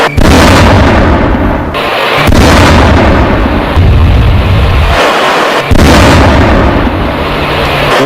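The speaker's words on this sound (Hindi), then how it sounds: "B-2 बॉम्बर के धमाके, उसकी आवाज आप सुन पा रहे हैं।" Loud, heavy B-2 bomber explosions boom one after another, each blast rolling into the next with a deep rumble that barely lets up.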